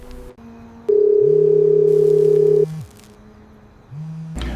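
Telephone line tones from a prepaid burner phone after dialing: a steady electronic tone holds for about two seconds, with lower sustained tones before and after it, clean and close with no voices.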